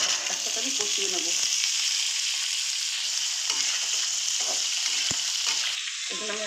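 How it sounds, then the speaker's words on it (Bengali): Chopped ginger and green chilies sautéing in hot oil for vegetable dalia, a bright, dense crackling sizzle up close with occasional stirring knocks. "এগুলো সব ঢেলে দিলাম, একসাথে আমি কষিয়ে নেব।"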